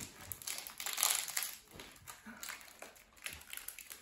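Scissors cutting into a taped Christmas present, producing crinkling, crunching wrapping paper and tape in irregular bursts, close and moderately loud, with no speech during the cutting.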